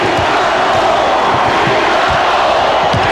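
An arena crowd of about 19,000 at a 1993 NBA playoff Game 7 chants "Beat the Bulls" in loud, rhythmic pulses, with a roaring wash of massed voices throughout.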